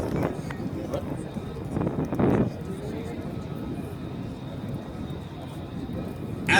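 An F-35B fighter jet roars through an air show display at MCAS Miramar, a steady, loud, rushing engine noise that swells briefly, with an announcer talking over it throughout.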